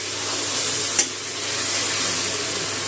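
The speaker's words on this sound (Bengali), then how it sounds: "10 মিনিট ধরে পেঁয়াজটা তেলের মধ্যে কষিয়ে নিয়েছি, যাতে পেঁয়াজের কাঁচা গন্ধ চলে যায়" Onion paste fries in oil in a pan for a mild chilli chicken dish, giving a loud, steady, close sizzle with one brief stirring clack.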